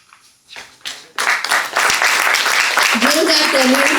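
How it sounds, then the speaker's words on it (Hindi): Loud audience applause erupts at a poster unveiling on stage, with a voice heard over the clapping near the end. "जोरदार तालियां।"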